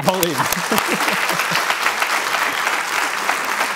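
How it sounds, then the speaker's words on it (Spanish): A burst of applause from a small audience, clapping steadily after a brief voice at the start. "¡Aplaudimos!"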